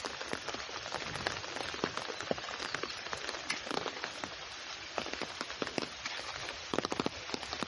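Heavy rain pours down on a village, with water rising over a playing field, a dense, steady patter of drops hitting surfaces, sprinkled with sharper crackling splashes and no voices.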